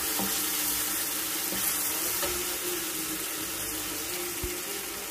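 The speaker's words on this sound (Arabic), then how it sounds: "باش نخليهم يتقلاو مع بعضهم على نار ضعيفه مده 10 دقائق" Tomatoes and pasta frying gently together in a pan over low heat, a steady soft sizzle with faint crackles running continuously throughout, no talking.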